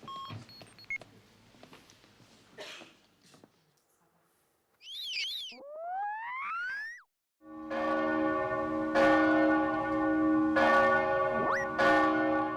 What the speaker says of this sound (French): Les cloches sonnent les heures du jour